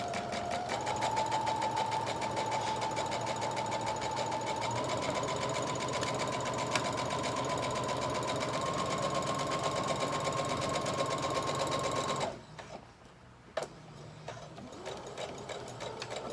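A sewing machine runs steadily to back stitch a jacket seam, a close, continuous motorized whir lasting about twelve seconds before stopping abruptly, followed by quieter handling sounds.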